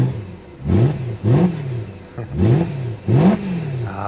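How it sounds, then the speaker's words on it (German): A BMW M3 E92 V8 engine is revved four times in quick succession, each blip rising sharply then falling back to idle, loud and close with no talking. "einmal noch mal Gas geben für die ganzen V8-Verrückten hier"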